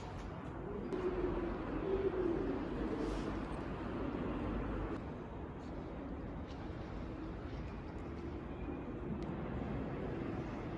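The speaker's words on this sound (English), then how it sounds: "and then it's just pigeons." Pigeons cooing faintly in a mostly closed shopping mall, soft intermittent coos set against a steady wash of indoor ambient noise with no one speaking.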